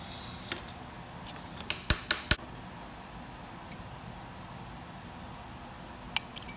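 A glass cutter scoring stained glass in a studio: a few sharp ticks and snaps, a cluster of crisp clicks close together, then one more click near the end, all faint against a quiet room.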